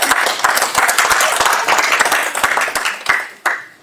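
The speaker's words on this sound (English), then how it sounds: "Round of applause is necessary." A conference audience claps close by and loud, with distinct individual hand claps forming a moderate, uneven round that thins out toward the end.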